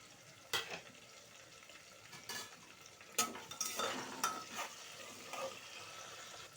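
Chopped onion and garam masala being stirred in a pan for Bengali goat meat curry, a soft sizzle under several distinct spoon scrapes and knocks against the pan.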